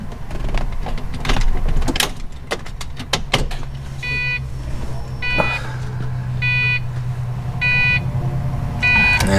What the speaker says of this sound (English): I can flip on the ignition.